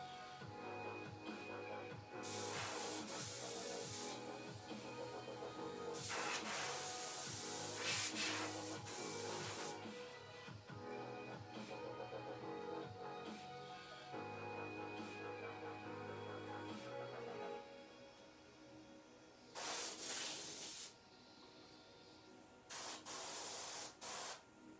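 An airbrush sprays paint in repeated hissing bursts of a few seconds each, separated by quieter gaps with a low hum, close to the mic and with no one talking.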